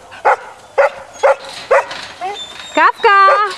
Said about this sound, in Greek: Τα σκυλάκια μου.